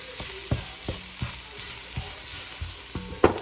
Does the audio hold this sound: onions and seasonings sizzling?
yes